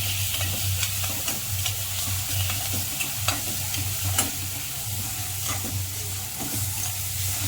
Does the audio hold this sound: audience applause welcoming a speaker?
no